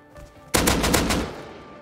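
Gunfire in the survival video game Rust: a sudden loud burst of several rapid shots in quick succession, ringing out and tailing off over about a second, with no talk over it.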